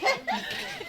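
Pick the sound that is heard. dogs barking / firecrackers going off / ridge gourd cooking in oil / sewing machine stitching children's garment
dogs barking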